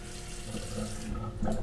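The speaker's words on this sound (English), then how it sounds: "Let me replace that water a little bit." Kitchen tap water runs steadily into a bowl of cold water chilling hard-boiled eggs, a close, continuous splashing flow with no talk.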